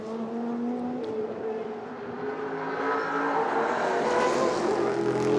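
Vintage race cars, a Porsche leading a BMW, roar up the front straight at the Monterey Motorsports Reunion, engines droning loud and building steadily as they approach.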